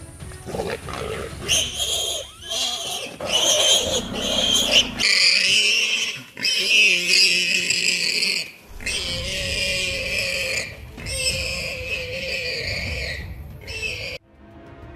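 A wild boar squeals loudly as a leopard ambushes it and bites its neck, the harsh cries and grunting roars continuing almost nonstop for about fourteen seconds before cutting off.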